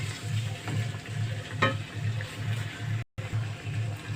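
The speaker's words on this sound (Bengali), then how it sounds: "তেলের সাথে ভালো করে আমগুলোকে অনবরত নাড়তে হবে" Mango pieces for a sour-spicy mango pickle are stirred continuously in hot oil, giving a steady sizzle with soft scraping strokes and a brief dropout near the end.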